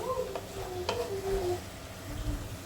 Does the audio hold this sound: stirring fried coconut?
yes